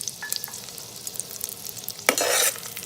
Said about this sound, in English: add the green chilies followed by curry leaves, then cashews,